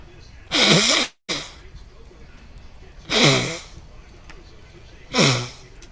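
Three loud, close sneezes burst out at irregular intervals, each a sharp explosive blast with a brief cut in sound after the first.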